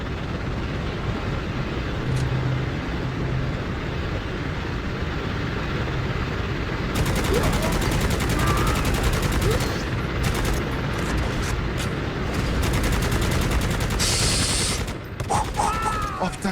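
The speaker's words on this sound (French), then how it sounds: "On va rester à la mitrailleuse." A continuous, dense roar of machine gun fire in the video game Necromunda: Hired Gun, sustained and loud across the whole stretch, rising slightly midway, with game effects near the end.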